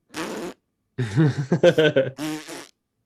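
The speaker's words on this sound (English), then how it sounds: "I think that's a fart sound." A fart sound effect plays as three separate bursts: a short buzzy puff, a longer sputtering ripple with several pulses, then a brief final blurt, each clear and close against silence.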